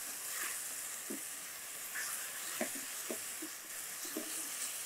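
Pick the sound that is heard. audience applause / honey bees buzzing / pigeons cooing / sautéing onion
sautéing onion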